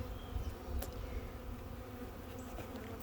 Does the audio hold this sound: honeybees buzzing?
yes